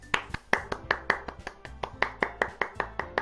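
Steady, rhythmic hand claps from one person ring out one after another at an even pace, crisp and fairly close, with no talking.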